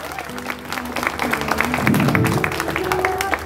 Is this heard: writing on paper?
no